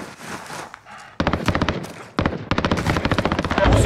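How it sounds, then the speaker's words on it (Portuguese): Gunfire in the Call of Duty Warzone video game, with a quiet stretch and then sharp bursts of rapid automatic shots, loud and close, coming in several volleys. "Tô vendo só uns tiros."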